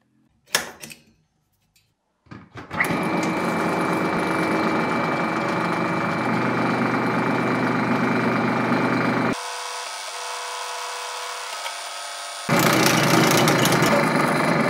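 An old Soviet 2M112 drill press, freshly restored and without its case, starts after a few knocks and runs loud and steady, its motor drone briefly thinning and dropping mid-run before returning to full strength.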